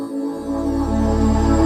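Renault Scenic E-TECH in Iconic trim sounds a short electronic welcome tone, a steady sustained synth chord that rises gently and holds at moderate loudness.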